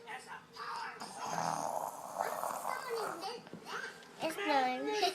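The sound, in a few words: child imitating snoring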